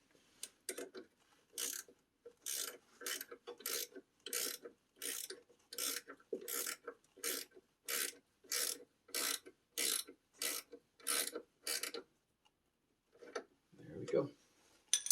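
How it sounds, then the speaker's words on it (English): A 10mm wrench ratchets a nut tight on a Mercedes W211 4Matic control arm, giving a long run of quick, evenly spaced clicking bursts, close and fairly quiet, with a brief duller clunk near the end. "And then I'll hold it with an 8mm and then use the 10mm to tighten down the nut."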